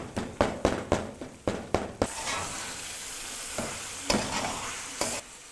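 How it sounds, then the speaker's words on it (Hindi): Tomatoes mixed in hot oil while frying for a chicken karahi, with a run of quick, sharp spoon scrapes and knocks against the pan over a constant sizzle, then a few slower stirs. "टमाटर को हमने ऑयल में अच्छे तरीके से मिक्स कर लिया था।"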